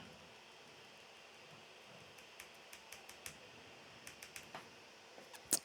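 Light, quiet clicks of arrow keys being pressed on a computer keyboard, tapped in short irregular bursts against a soft steady hum.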